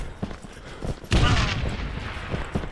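A frag grenade detonates in the video game War Trigger: a single loud, broadband boom hits partway through, followed by a long rumbling decay and scattered softer game noise.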